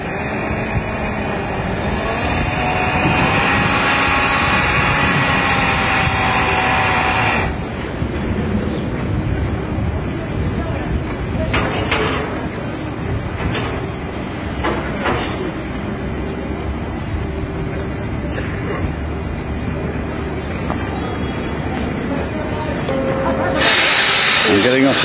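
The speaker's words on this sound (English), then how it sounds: "You can hear all the hissing and the noise. That's the boat pulling in." A boat pulls in to dock on the Nile, filling the scene with steady loud hissing and rumbling engine noise, broken by a few brief sharp bursts, heard close and continuous throughout.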